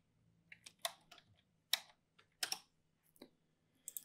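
Scattered keystrokes tapped on a computer keyboard while working in Blender's outliner, coming in short irregular bursts of a few clicks each, quiet and close with no talking.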